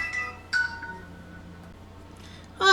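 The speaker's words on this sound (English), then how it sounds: "I love it when the phone rings" A telephone rings in an indoor craft workspace, short bursts of electronic tones at the start and end with a quiet stretch between, fairly close and alone without talk.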